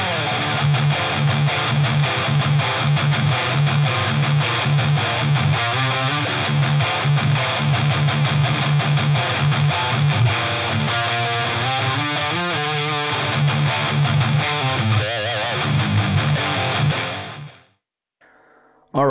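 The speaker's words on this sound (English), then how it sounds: "I used the metal preamp and added the boss distortion over it." An electric guitar through a Boss ME-80 multi-effects unit, metal preamp plus Boss distortion, plays with heavy, saturated metal distortion, loud and continuous riffing that cuts off abruptly near the end.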